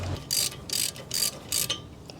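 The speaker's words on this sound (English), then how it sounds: "put this Torx bit in this same opening here and just turn that in till it stops" Torx bit being turned by hand to wind in the electronic rear brake caliper piston on a 2017 Honda CR-V, three bursts of close ratcheting clicks separated by short pauses.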